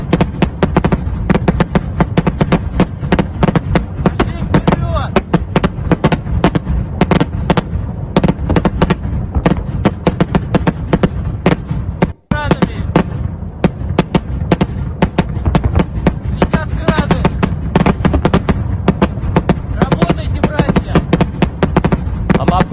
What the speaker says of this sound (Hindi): हेवी आर्टिलरी फायरिंग चल रही है।